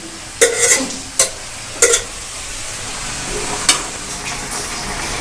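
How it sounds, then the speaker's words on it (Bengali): Cabbage and potatoes frying in a spice mix give a low, steady sizzle, punctuated by several sharp spatula scrapes and clanks against the pan as the vegetables are turned. "মশলার সঙ্গে আলুর সঙ্গে বাঁধাকপিটাকে ভালো করে মিশিয়ে দেব"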